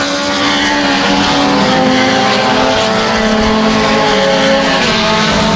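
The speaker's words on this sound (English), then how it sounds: "Dylan Straight, still your leader here as these cars are starting to fan out." Mini stock race cars roar around a dirt track in a heat race, a loud continuous engine drone from several cars with no pause.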